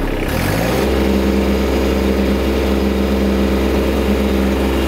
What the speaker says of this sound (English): we're very simply going to start our tractor.